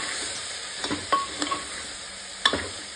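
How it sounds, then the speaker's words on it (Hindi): Cauliflower and peas with turmeric, salt and coriander powder being stir-fried, a constant close sizzle with a few spoon scrapes and knocks against the pan, steady and moderately loud. "हल्का सा इसका एक मिनट के लिए भूनिए सब्जी को"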